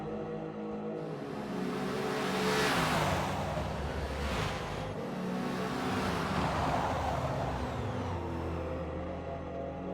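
GT race cars at Le Mans in a racing game roar past side by side, engines swelling and fading in two broad passes with continuous high-revving drone throughout.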